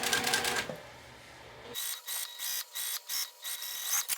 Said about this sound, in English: I'm going to baste it in place.